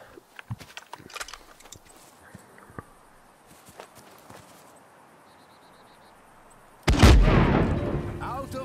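SMG fire in a video game erupts as a loud, sustained burst near the end, after several seconds of quiet clicks and light footstep-like taps.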